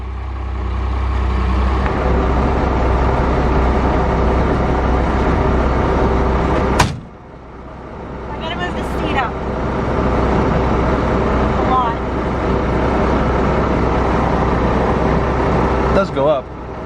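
An International truck on its first drive, with a steady low engine drone and road rumble running throughout, interrupted by a sharp door-like clunk midway, while people talk over it.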